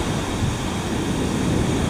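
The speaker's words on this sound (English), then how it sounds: "Just got waves coming everywhere. Every direction." Ocean waves wash continuously onto a beach at Garrapata State Park, a dense steady roar of surf mixed with wind rumble, with no voices.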